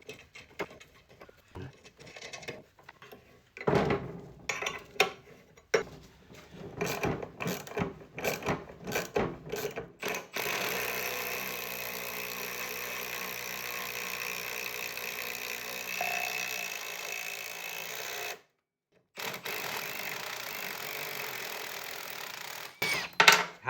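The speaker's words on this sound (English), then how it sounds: "Let's bolt that down." Bolting a part down on a Hayter Harrier 41 lawnmower makes close, irregular mechanical clatter and tool clicks that then give way to a long steady whirring stretch, briefly cut off before a final loud burst.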